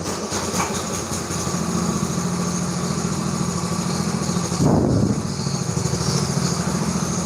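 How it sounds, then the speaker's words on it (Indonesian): A running engine in a home mechanic's workshop gives a steady, loud mechanical drone that fills the whole stretch, with a brief swell near the middle; there is no speech. "Jadi di sini tuh suara di rumah, ada suara mesin."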